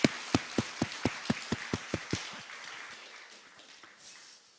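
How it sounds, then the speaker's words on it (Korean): Congregation at a Korean Sunday church service giving about ten slow, evenly spaced, unison claps, loud and crisp, then trailing off into a quiet room murmur. "다시 한번 큰 박수로 주께 영광을 드립니다"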